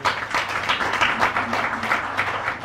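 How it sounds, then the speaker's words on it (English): Audience giving a round of applause at an NRI welfare society congress in Bangkok, dense, close clapping that swells and holds steadily for a few seconds. "Let's give him a round of applause"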